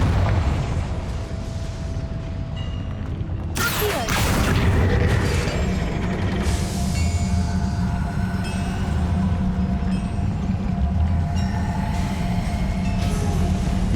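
A Confringo blasting spell fires in Hogwarts Legacy and lands in a sudden loud burst, followed by a long rumbling roar that carries on through the rest of the clip.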